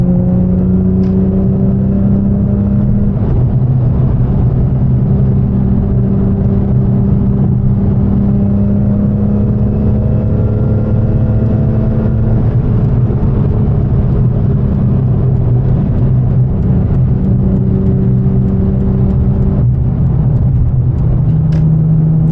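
A Nissan Rogue drives away after a hit and run, its steady mid-pitched engine drone and road noise loud and continuous from inside a car, with slowly shifting engine tones.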